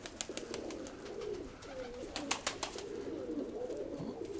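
A dove coos softly from the rooftops, its low calls faint and distant beneath a steady wash of outdoor background noise with a few sharp ticks.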